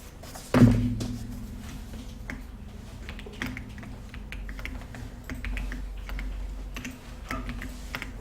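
English text typed on a computer keyboard in a beginner computer class, a run of quick close key clicks following an opening thump, with a low steady hum underneath and no talking.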